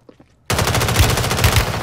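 Rapid automatic gunfire in a Resurgence solos battle royale match bursts in loudly after a near-silent moment, a dense sustained string of shots continuing to the end.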